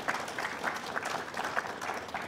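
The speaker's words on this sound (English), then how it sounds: "I want to give Lyman a big round of applause." An audience at a press conference for a library restoration claps steadily throughout, a dense, even patter of many hands with no voices over it.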